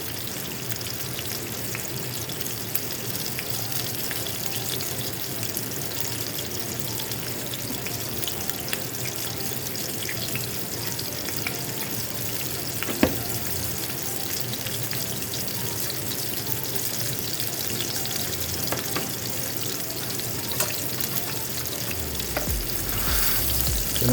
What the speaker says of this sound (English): So now back to the frying.